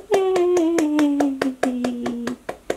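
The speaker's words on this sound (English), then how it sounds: "Can you clap with me?" Hands clap about ten times at a brisk, even pace, each clap sharp and close, with a sustained voice-like tone gliding beneath the first two seconds.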